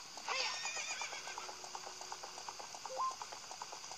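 A horse whinnies with a bright, high neigh near the start in the video game Zelda: Ocarina of Time 3D, then soft clip-clopping hooves and a short electronic tone, over steady background hum.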